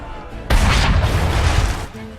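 Cannon fire in the video game Assassin's Creed III: one heavy boom bursts in after a brief lull, then rolls on as a loud, rumbling, crackling roar before slowly fading.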